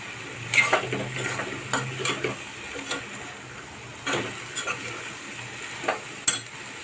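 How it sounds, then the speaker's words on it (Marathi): Chopped French beans, potato and capsicum are stirred in a pan for a mixed vegetable bhaji, with soft spoon clinks and scrapes over a faint sizzle, quiet and close. "भाज्या आपल्याला चांगल्या परतायच्या आहेत"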